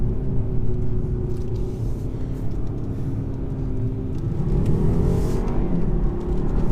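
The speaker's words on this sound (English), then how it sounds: "this torque converter gearbox shifts pretty quickly" A 2018 BMW 420i xDrive's engine rumbles loudly as it accelerates, the revs climbing and dropping with quick torque converter automatic gear shifts, steady and close with no talking.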